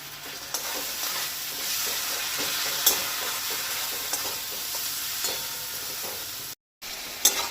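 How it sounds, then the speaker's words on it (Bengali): Masala spices fry in oil in a pan for a spicy egg curry, a continuous close sizzle broken by regular scraping stirs and occasional sharp clicks, with a brief silent gap near the end. "দেখো মশলাটা কষাচ্ছি, কেমন তেল ছেড়ে দিচ্ছে"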